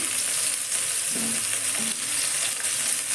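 Bay leaf, panch phoron spices and potatoes fry in hot oil, giving a steady close sizzle with a couple of brief stirring scrapes partway through.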